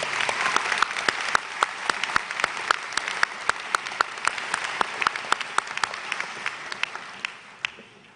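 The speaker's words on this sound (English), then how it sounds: "Let's give one more round of applause for these talented students." A graduation audience at Riverwood International Charter School's 2018 ceremony applauds the graduating students, a sustained, even round of clapping from a large crowd that tapers off near the end.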